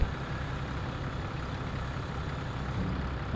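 A truck engine idles in Farming Simulator 25 on a farm after a barley harvest, a steady low rumble that stays even throughout with no talk.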